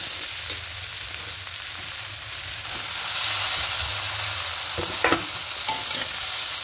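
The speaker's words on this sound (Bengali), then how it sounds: "এবার কেটে রাখা শাকটা দিয়ে দেবো এখানে।" Chopped spinach goes into a frying fish-head curry, likely made with sitin fish heads. A steady hiss and sizzle runs throughout, with a few sharp stirring clatters near the end and no talk.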